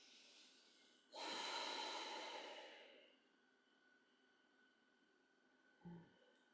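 One long, audible exhale through the nose lasting about two seconds during a yoga session, followed by quiet and then a short sniffing breath, close and soft with no talking.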